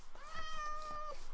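A cat meows once in the Minecraft video game, a short rising-and-falling call that is clear and fairly faint, heard alone without talk.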